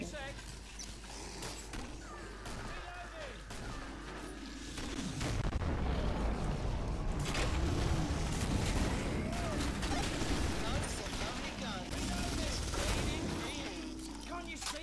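Hand cannon fire in a video game, heavy repeated shots and booming blasts layered into dense battle noise that swells midway, with a player talking over the gunfire.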